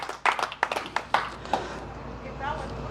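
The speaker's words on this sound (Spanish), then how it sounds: "Dale un aplauso al Señor, aleluya." A church congregation claps along during a Spanish-language worship service, a burst of sharp, irregular handclaps in the first half that thins out into softer, scattered claps and room murmur.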